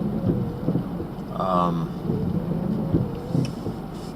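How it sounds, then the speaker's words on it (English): Rain falls steadily on a commercial rooftop during HVAC maintenance, a dense hiss under rumbling thunder, with brief spoken words over it. "I hate doing rooftops in the rain"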